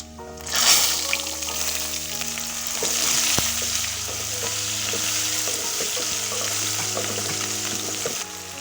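Small shallots and garlic sizzling in tempering oil for a lentil-ball gravy: a steady, close frying hiss with crackles and occasional stirring scrapes and clinks throughout.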